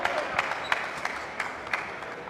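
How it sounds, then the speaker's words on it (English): Teammates clapping at an indoor badminton league match, a sparse, steady patter of claps that is moderately near and continues under the room's background noise. "There is a constant applaud by your teammate"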